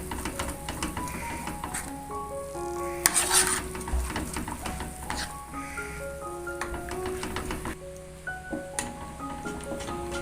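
A spoon keeps stirring a banana pudding mixture in a pan on the stove as it browns, giving soft scraping and a light sizzle beneath continuous background music.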